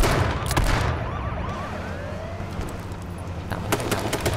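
Police car siren inside the battle-royale game H1Z1 King of the Kill, a wailing electronic tone sweeping up and down through the middle of the clip over steady game ambience, with a few sharp bursts near the end.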